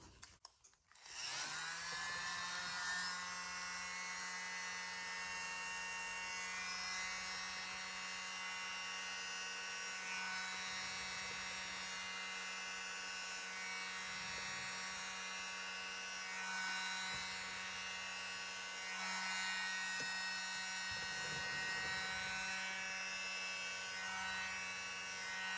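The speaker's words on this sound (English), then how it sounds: "I'm just going to use the world's smallest mini blower with the Tracy Reed attachment to it" A tiny electric mini blower fitted with an attachment blows across fluid acrylic paint, producing a steady, high-pitched motor whir that starts abruptly and holds on continuously throughout.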